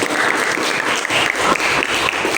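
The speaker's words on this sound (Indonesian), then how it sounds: "tepuk tangan dulu untuk kalian." Students in a classroom burst into steady applause, a dense continuous patter of many hands clapping at close range that carries on without a break.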